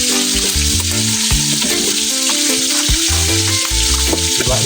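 Onions sizzle loudly as they fry in a pan of oil for a Filipino dish with tomatoes and chili, a dense continuous crackle with scraping clinks of a utensil stirring throughout.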